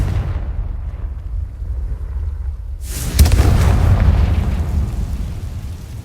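A Confringo fire spell from Hogwarts Legacy bursts into a loud, sudden explosion after a quiet stretch, its roar tailing off into a rumbling decay.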